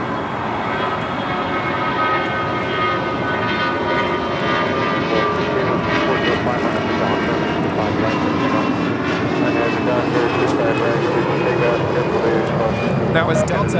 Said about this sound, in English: That was Delta 1043 departing to San Antonio, Texas on an A319.